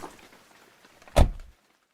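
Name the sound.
car's rear door opening, briefcase dropped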